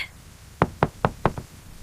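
Five firm knocks land on a door in quick, even succession, close and loud against a quiet background. The scene is a desert house at night.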